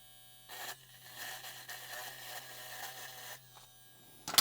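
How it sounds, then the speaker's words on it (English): JRL 3000C cordless hair clipper cutting through a brush, a steady close electric buzz with a mains-like hum that runs for several seconds, rises and falls slightly with the strokes, and then cuts off. "Now let's check out the 3000C, see how it goes through the brush."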